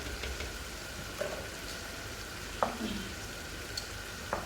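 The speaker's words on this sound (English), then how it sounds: "while the panla is frying over there" Continuous hiss of fish frying in oil, with a few soft clinks and taps of utensils breaking through.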